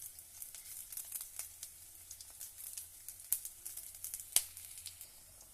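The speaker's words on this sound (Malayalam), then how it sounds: "അപ്പം നന്നായിട്ട് വഴന്നിട്ടുണ്ട്." Shallots, fenugreek, green chili, ginger and curry leaves sauté in hot oil for a sardine curry, a soft continuous sizzle dotted with light crackles and a couple of sharper pops.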